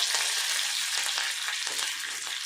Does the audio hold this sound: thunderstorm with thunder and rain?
no